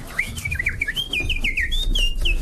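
A nightingale's song of bright whistled trills and rising, warbling notes runs continuously for a couple of seconds, close and clear over a low rumbling background.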